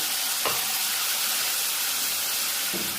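Sliced onions sautéing in oil in a pan for roasted-coconut sambar, a continuous close sizzle with faint stirring scrapes and no voices.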